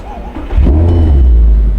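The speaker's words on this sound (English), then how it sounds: "turn on the car" A first-generation Audi R8's engine fires up after a brief quiet idle inside the car, jumping abruptly into a loud, deep, steady rumble that holds close and heavy to the end.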